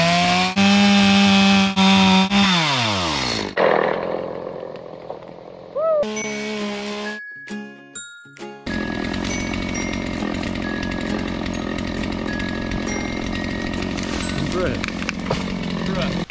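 A chainsaw revs and drones loudly nearby, its pitch rising and dropping, then settles into a steady roar as it cuts down a tree.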